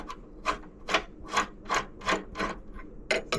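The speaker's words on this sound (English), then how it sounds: "I'm just gonna spin it out by hand just because it's easier" An engine mount bolt on a Ford Focus turned out by hand gives a series of soft, regular rubbing rasps, about eight evenly spaced strokes, close and quiet.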